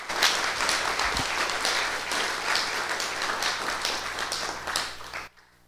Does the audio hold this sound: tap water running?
no